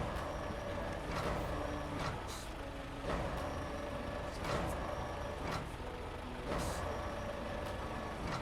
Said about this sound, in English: I was wondering why my truck's moving. It's because I don't have my handbrake on.